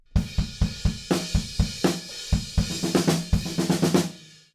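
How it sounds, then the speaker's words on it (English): Drum fill for a song: rapid snare and tom hits build through a busy flurry of strikes, then stop, leaving a brief ringing decay at the end. "at the end it just drops off one of those snare drums, and that will sound like this."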